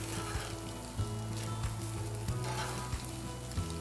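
Steaks sizzle loudly on an outdoor grill right after being flipped. The frying hiss is close and continuous, broken by a few light knocks, with no talking.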